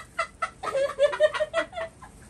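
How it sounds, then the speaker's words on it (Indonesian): A chicken clucks close by in a quick series of short, bright calls that gather into a busier run midway before tapering off, heard alone against a quiet background. "Ayam."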